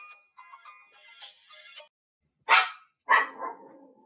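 A phone ringtone plays in a few short melodic bursts, followed by two louder, abrupt sounds, with brief gaps of silence between.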